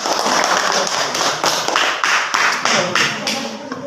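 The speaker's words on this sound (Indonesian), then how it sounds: "baik, kita beri aplaus" A classroom audience applauds a group's presentation with dense, close clapping from many hands, steady for several seconds, and a voice is faintly heard beneath it.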